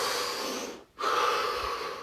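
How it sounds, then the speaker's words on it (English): A deep breath taken during a guided relaxation exercise, heard as one close, steady airy inhale that fills most of the clip, with a short quiet break in the middle and no talking. "Deep breath."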